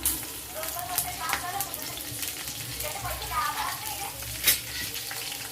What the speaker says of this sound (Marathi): त्यामध्ये आर्द्रक टाकून घेतलं आणि मस्त आपल्याला भाजून घ्यायचं मिरच्या